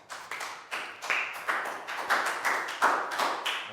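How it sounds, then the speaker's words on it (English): A small class of primary pupils claps for a classmate during a phonics lesson, a short run of quick, loose hand claps in uneven bursts. The claps sound close and bright, with almost no talking. "Big round of applause for Pak Boom"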